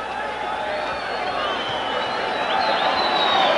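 A boxing arena crowd roars and cheers steadily before a WBC super bantamweight title bout with Erik Morales, a dense, continuous wash of voices that swells slightly toward the end.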